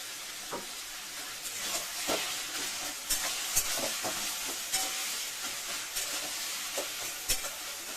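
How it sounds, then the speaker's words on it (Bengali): Taro greens with broken hilsa fish heads frying in mustard oil, a continuous close sizzle with repeated spatula stirring scrapes and small pops spread evenly throughout, with no voices. "একটু সরষের তেল দিয়ে দেবো।"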